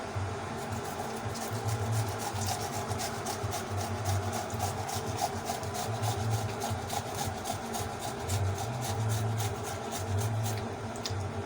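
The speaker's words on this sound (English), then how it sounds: "So I think I need more tomatoes. That's why I'm grating." Tomatoes being grated by hand on a kitchen grater, a steady rhythmic scraping and rubbing with repeated strokes, moderately close and continuous.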